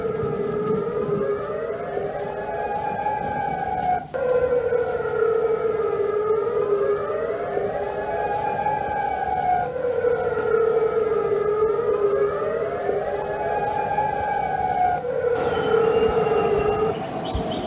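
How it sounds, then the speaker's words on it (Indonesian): Air raid sirens wail during an Iranian attack on Jordan, in long rising and falling cycles, several overlapping tones repeating steadily for the whole stretch, loud and unbroken. "Sirene meraung saat Iran meluncurkan serangan ke Yordania pada Kamis waktu setempat."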